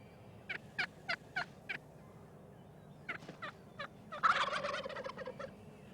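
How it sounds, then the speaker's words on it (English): Eastern wild turkeys gobble in the distance, a run of sharp, evenly spaced calls, then a quieter group and a longer rattling gobble that trails off. "A gobble can be heard up to a mile away"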